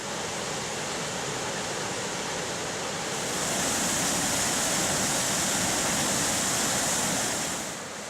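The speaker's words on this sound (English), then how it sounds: "follow the trail leaving the campground to view the impressive Silver Falls" Silver Falls on the trail from Ohanapecosh Campground in Mount Rainier National Park, a steady, dense rush of falling water that holds constant throughout and swells a little louder midway, with no voices.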